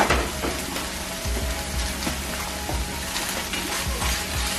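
Food fries in a pan with a steady, fairly loud sizzle, along with occasional clinks and scrapes from stirring. No one speaks.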